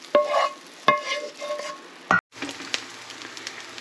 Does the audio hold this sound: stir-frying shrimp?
yes